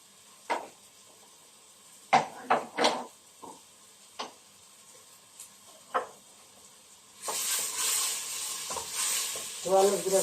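Chopped onions cooking with olive oil in a pan for a stuffed squash blossom dish, with scattered spoon scrapes and taps, then a steady close sizzle building up toward the end, with no talk.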